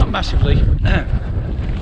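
Strong wind buffets the microphone on the Pen Y Fan summit ridge on a winter hike, loud low roaring gusts, with someone speaking briefly over the blustering.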